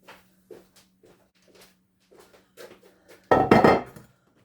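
A 9x13 baking pan lifted and set down in a kitchen, with light scattered clinks and taps building to a loud metallic clatter and rattle near the end, close and alone.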